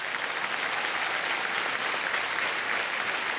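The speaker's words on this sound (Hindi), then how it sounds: "तालियां बज जाए इनके लिए।" A studio audience at a television quiz show applauds a contestant, an even, continuous wash of clapping that holds steady for a few seconds.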